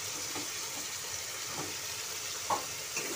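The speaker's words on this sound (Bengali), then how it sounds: "আলুগুলো ভেজে নিচ্ছি নুন হলুদ দিয়ে" Small potato pieces frying in a pan with salt and turmeric give a soft, steady sizzle that stays low and even, with a few faint clinks near the end.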